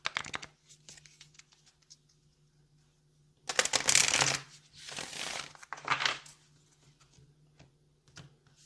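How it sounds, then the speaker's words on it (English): Several bursts of oracle card shuffling close by, a long riffle followed by two shorter ones, with quiet pauses and faint ticking between. "Okay, one more shuffle."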